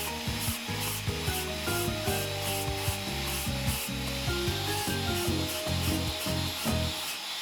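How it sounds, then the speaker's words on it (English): Circular saw cutting into a wooden fence post, a loud continuous grinding cut with rapid rhythmic bursts as the blade works through the wood, close up and without speech. "In this case, I don't have a drill bit, so I'm going to use a circular saw."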